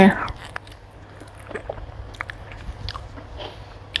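A crisp bite into a Monthong durian segment gives a sharp crunch, then soft chewing and squishing follow close up while someone talks.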